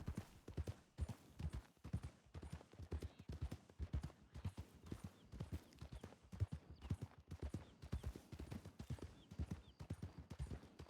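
Horse hooves clip-clop at a steady walking rhythm throughout, close and clear, in a Western video game featuring Deputy Lucien Lorde; faint low talk sits far beneath the hoofbeats.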